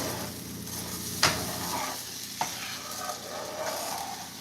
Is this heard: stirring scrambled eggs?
yes